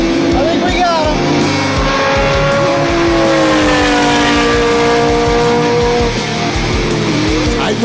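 Porsche and Ferrari supercars race through a fast section, engines roaring loud and near with rising and falling revs and tire squeal, while voices talk over them throughout.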